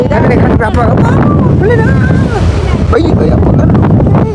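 Strong wind buffets the microphone on a Sri Lankan beach, a loud continuous roar with surf and boat noise mixed in, while a person talks over it.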